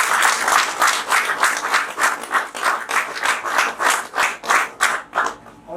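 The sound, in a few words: audience applause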